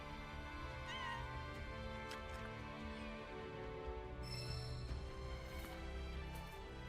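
A cat meows several times in Final Fantasy VII Rebirth in the Nibel region, thin mewing calls over continuous game music and ambience, with no talking.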